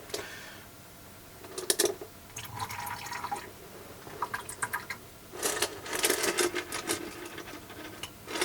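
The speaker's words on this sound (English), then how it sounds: "take off as much of the slurry as I can and pour it straight into this jar." Rock tumbler waste slurry is poured from a container into a jar, making soft, intermittent wet splashing and dripping bursts. The sound is close but faint, with short pauses between pours and no voices.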